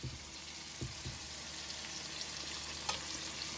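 Fish fillets fry in hot oil with a steady, quiet sizzle throughout, broken by a few soft knocks and clinks of cookware near the start and a sharper tap later.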